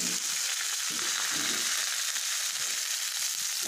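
Spinach greens sizzling in hot oil spiced with panch phoron, a steady, dense frying hiss that stays even throughout with faint low stirring bumps underneath.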